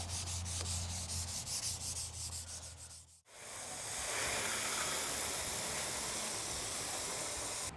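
Abrasive Scotch-Brite pad scrubbing rust off a truck hood, a steady close rasping rub that stops briefly and then resumes more strongly.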